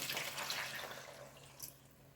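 Water pours into a pan nearby with a splashy rush that gradually tapers off and grows quieter.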